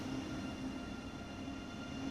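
Train cars rolling along the track in Train Sim World 2, a constant low rumble and a faint high whine, steady and fairly quiet, with no voices.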